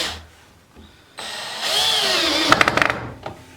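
Power drill driving screws into a wooden filing jig for knife making, a short whirring run that rises in pitch, then a quick series of sharp taps and clicks as the screw seats, close and loud.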